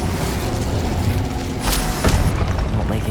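A fiery burst from the Incendio spell in Hogwarts Legacy, cast during a wizard duel: a broad whooshing roar over a dense, steady game soundscape, with a flaring surge partway through and a second hit just after.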